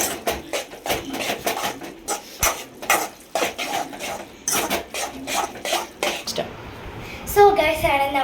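Spicy noodles are stirred in a pan with a utensil, making repeated scraping and clinking strokes in an uneven rhythm, close by, while someone talks over them.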